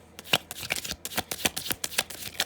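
Tarot cards being shuffled by hand, a quick run of crisp papery riffles and flicks in an irregular rhythm, close and moderately loud, with no voices.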